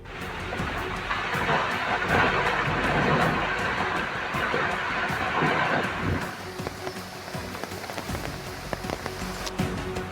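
Heavy monsoon rain lashes down in a dense, continuous wash, with low rumbles of thunder and scattered splashes, loud and near before easing slightly toward the end.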